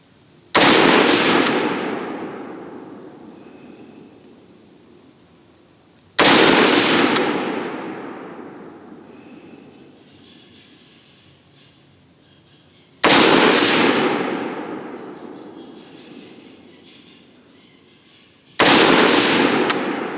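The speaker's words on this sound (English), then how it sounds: "So I'm going to do a 5-shot group." An AR-15 rifle fires single shots for a five-shot group at a range, four loud sharp reports spaced several seconds apart, each followed by a long rolling echo that fades slowly.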